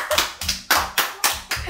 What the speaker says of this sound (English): Why are you guys clapping?